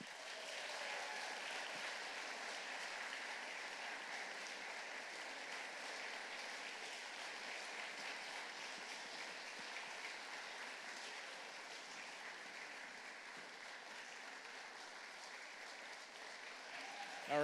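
An audience at a university venture showcase gives the presenting teams a long round of steady applause, moderately distant and even throughout, rising sharply at the very end.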